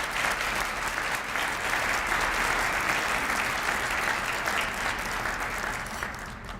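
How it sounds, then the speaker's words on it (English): A formal bar association event audience gives a round of applause for judicial officers, dense continuous clapping from a sizable crowd, steady and loud for several seconds before easing slightly. "Please join me in a round of applause for our judicial officers."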